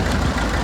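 A Southern Cross stationary engine with an unusual air-cooled fan system runs steadily nearby, a dense low chugging rumble without pauses.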